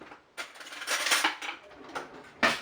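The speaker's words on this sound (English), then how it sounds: "Get a spoon to get all your molasses out" A long metal ice cream spoon scraping sticky molasses from a container, with several clinking, scraping strokes of varying length and a sharp knock at the end, close and fairly loud.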